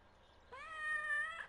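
A cat in the video game Fishing Planet gives a single clear, drawn-out meow lasting about a second, fairly close and alone with no talk.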